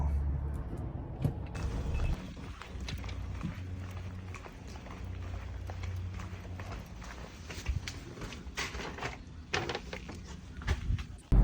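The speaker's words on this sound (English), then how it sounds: "Wow, that's a loud truck." A heavy vehicle rumbles past with loud low-end engine noise and clattering, rising and fading over several seconds.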